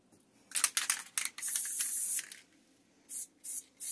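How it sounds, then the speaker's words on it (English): Spray glue is sprayed onto a gift wrap of sublimated toilet paper in short hissing bursts. A few quick puffs are followed by a longer sustained spray, then three more brief blasts, all close and fairly quiet. "Another little shot of glue."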